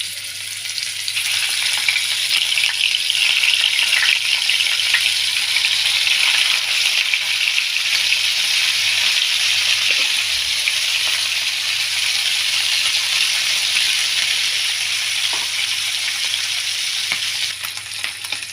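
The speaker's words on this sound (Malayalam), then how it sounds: "നമ്മൾ ഈ മീനെ തിരിച്ച് മറിച്ച് വിട്ട് വറുത്തെടുക്കണം" Loud, continuous sizzling of dried fish frying in hot oil, a dense steady hiss that holds for the whole stretch with no talking.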